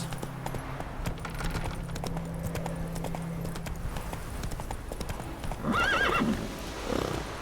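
A horse in The Witcher 3 runs with steady rapid clip-clop hoofbeats, then gives a loud whinny near the end over the in-game background sounds.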